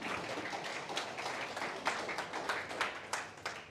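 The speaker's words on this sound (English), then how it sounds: "Give you a big round of applause." Faint applause from a small audience at a classroom-style lecture on monetary policy, a soft continuous patter of claps with a few slightly sharper strikes, distant and fairly quiet.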